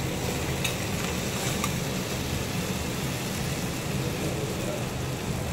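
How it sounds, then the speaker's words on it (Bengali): Okra frying in a pan with salt and turmeric gives a continuous dense hiss of sizzling oil, close and fairly loud, holding steady for the whole stretch without a break. "এবারে আমি এটাকে একটু এরকম আমি ভাজা ভাজা করব।"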